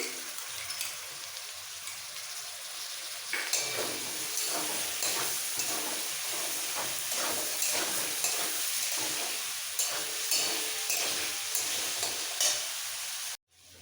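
Whisked sour yogurt added to potatoes and cauliflower frying in a pan, a sharp burst of sizzle followed by steady hissing and rhythmic spoon stirring and scraping for several seconds, ending abruptly.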